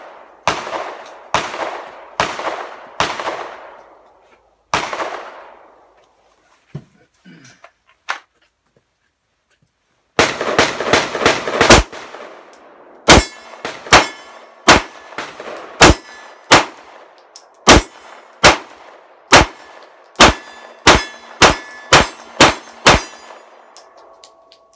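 Smith & Wesson M&P 9mm pistol shots with Remington 115 grain ball ammunition at a range. Loud sharp cracks ring out, first in a few spaced shots, then a tight burst, then a long steady string of evenly paced rounds.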